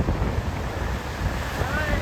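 Gusty wind roars across the microphone at Tunnel Beach, Michigan, with waves washing on the shore beneath it, a steady, loud, broadband rush lasting throughout and no voices over it.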